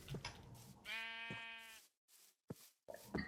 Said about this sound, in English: Look how many sheep there are.